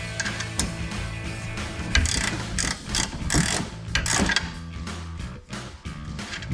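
An 18mm open-ended wrench turns a brake caliper bolt on a 2008-2021 Dodge Challenger, giving a run of close metallic ratcheting clicks and scrapes with uneven rhythm over a low background hum.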